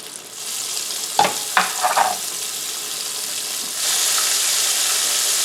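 Steady hiss of pork frying in oil, with a few clanks of a utensil early on and the sizzle growing louder and fuller toward the end.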